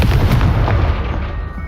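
A Confringo blasting spell from Hogwarts Legacy erupts in a loud, sustained boom with a deep rumble, holding steady and then slowly fading over a second and a half, with no voices.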